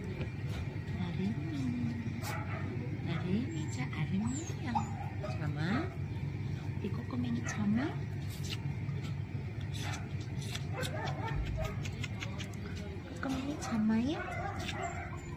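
A puppy yips, whimpers and barks in repeated short bursts close by, with a person talking softly over it throughout.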